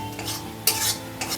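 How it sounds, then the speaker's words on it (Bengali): Spice paste frying in oil in a pan while being stirred, for a soya chunk and potato dish: a few loud scraping stir strokes over a steady close sizzle, with no talking. "মশলাটা খুব সুন্দর ভাজা হয়ে গেছে, মশলা থেকে তেল ছেড়ে দিয়েছে।"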